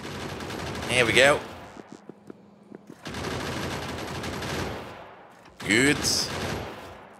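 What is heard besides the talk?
spaceship guns firing in video game Factorio Space Exploration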